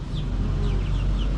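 Rhode Island Red chickens cluck softly in a coop, with several short, overlapping calls over a low background hum, close and continuous.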